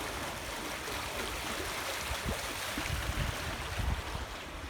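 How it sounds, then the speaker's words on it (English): Water rushes steadily along a creek, a continuous broadband splashing with occasional low gurgles nearby. "Nothing like falling asleep in the summertime to the sound of that water running by."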